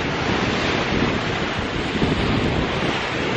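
Choppy ocean swell and surf wash steadily at Hatchet Bay on Eleuthera in the Bahamas, a dense, unbroken roar mixed with wind buffeting the microphone.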